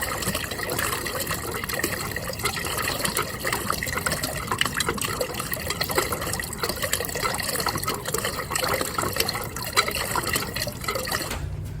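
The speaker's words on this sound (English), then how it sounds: "As soon as I see that start to really spatter, we'll go turn off the pump." Water sputtering and spattering intermittently from Airstream trailer faucets as compressed air pushes it out of the lines during winterizing, a steady close hiss with irregular splashing bursts throughout.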